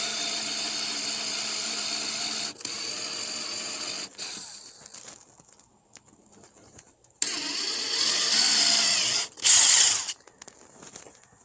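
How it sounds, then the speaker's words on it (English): A power drill bores a hole through an epoxy-filled wooden boat deck while a Lewmar V700 anchor windlass is being installed, with close, steady whining bursts of drilling that stop and start, including a louder final stretch. "really carefully drilled through the middle"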